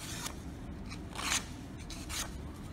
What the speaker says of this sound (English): So we fold it on that line